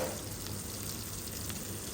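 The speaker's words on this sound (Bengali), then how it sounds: "কিছুটা ব্রাউন কালার হয়ে গেলে তাতে আমি একটি পেঁয়াজ কুচি দিব" Chopped onion fries in a pan with a steady, dense hiss and crackle close up, plus a faint stir or two.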